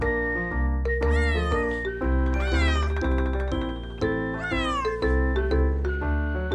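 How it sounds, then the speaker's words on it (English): A cat meows loudly and up close, repeating a string of drawn-out, wavering cries one after another with short gaps between them. "It's a cat."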